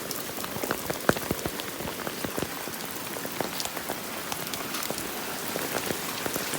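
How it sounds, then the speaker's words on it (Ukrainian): Heavy rain pours steadily, with dense drops pattering on a surface and occasional louder splats, no voices. "А дощ лє як з відра."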